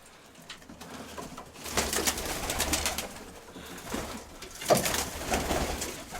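Pigeons coo softly and repeatedly nearby amid rustling and shuffling, with occasional louder bursts of movement.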